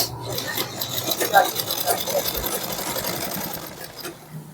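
A sewing machine stitching a shirt runs steadily with a fast mechanical whir and rattle at moderate loudness while a person speaks over it.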